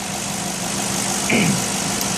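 A warmed-up car engine idles steadily at close range, a continuous even drone with a brief faint rise partway through.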